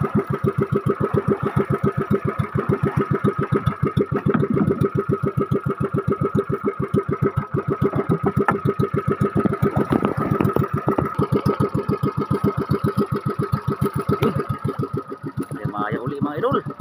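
A small fishing boat's engine runs steadily at sea, its loud, even chugging beat continuing throughout the clip with faint voices beneath it.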